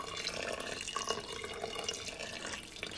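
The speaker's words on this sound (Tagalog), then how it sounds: "Nilagyan siya natin ng tubig." Water runs steadily into a rice cooker pot, giving a continuous, soft splashing and trickling that stays fairly quiet and close, with no speech.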